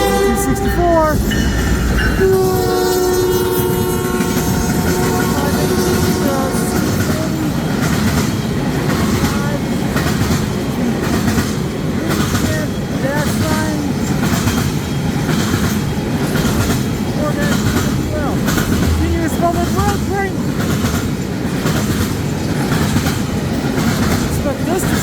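A CN freight train hauling partially continuous welded rail rolls past at close range near Ladysmith, Wisconsin, loud and steady throughout, with a horn sounding near the start and rhythmic wheel clatter continuing over the length of the train.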